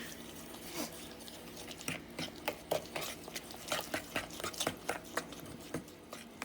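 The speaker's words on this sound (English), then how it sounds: "Beat that mixture all together" Cake mixture being stirred and beaten by hand in a bowl, a soft, rapid run of light taps and scrapes that is faint and close, with no voices.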